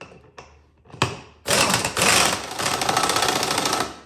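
An air impact wrench hammers on ATV wheel bolts, a few short bursts leading into a loud, sustained rattling run close by.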